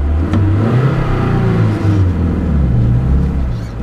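A Lada Niva engine revs during off-road driving, a loud, close, rough rumble that rises and falls in pitch as the throttle is worked by hand, with no talking.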